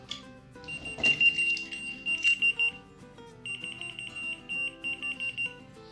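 A cheap whistle-activated key finder keychain emits bursts of high, shrill electronic beeps in two rapid pulsed patterns, loud and close, over a faint musical background.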